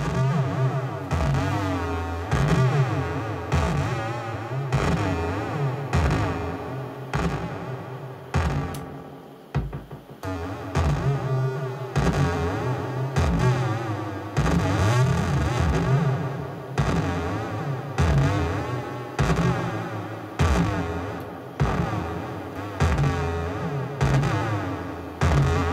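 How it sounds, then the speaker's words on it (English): A bass drum treated with echo and distortion effects pounds in repeated heavy beats, each hit smeared by echoing tails and gritty overtones, loud and alone, with a brief drop in the middle. "So that's just the bass drum."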